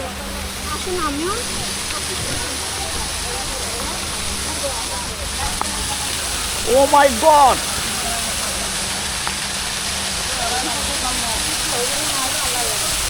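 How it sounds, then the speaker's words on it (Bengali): Steady, loud rush of water cascading from a fountain at Chikli water park in Rangpur at night fills the whole stretch, with a voice exclaiming over it midway. "এই যে ঝর্নার মতো পানি যাচ্ছে দেখছেন পানি যাচ্ছে"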